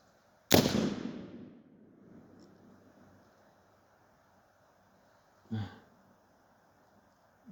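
A .44 black powder revolver fires outdoors: one loud, sharp report with a long decaying tail, then a softer, shorter thump a few seconds later.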